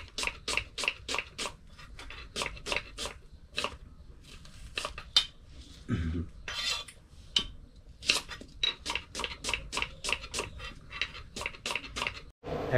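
Onions being finely chopped for beresta on a cutting board in a home kitchen, a rapid series of close, crisp knife taps in quick bursts with short pauses between runs.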